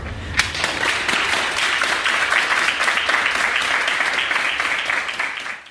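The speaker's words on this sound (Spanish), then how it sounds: "Ellos aplaudiendo a la gente que se queda en casa" Emergency staff at Dr. Negrín hospital clap together in a loud, continuous round, a thick burst of many hands with a sharp first clap, holding steady before fading at the close.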